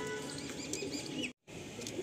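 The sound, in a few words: pigeons at a pigeon loft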